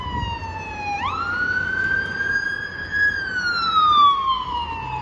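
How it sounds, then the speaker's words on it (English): An ambulance siren passing near a railroad crossing on McNutt Street in Weber City, Virginia, a loud wailing tone that rises in pitch, holds, then slowly falls away. "Oh, here comes the ambulance."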